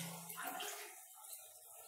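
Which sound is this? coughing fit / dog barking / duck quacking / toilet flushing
toilet flushing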